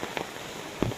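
Heavy rain pours outdoors as a steady, moderately quiet hiss over one second, with a brief dull thump near the end.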